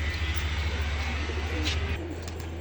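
Tournament racing pigeons in a home loft, among them an old black-marked breeding line, give a steady low cooing that carries on throughout without a break.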